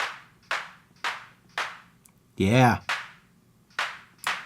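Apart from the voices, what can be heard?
synthesized clap sound made in Ableton Live's Operator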